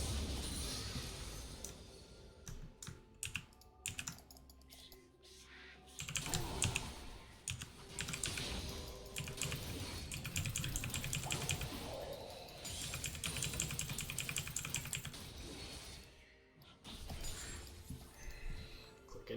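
Rapid, faint computer keyboard typing during a League of Legends session, with bursts of clicking keys broken by short pauses.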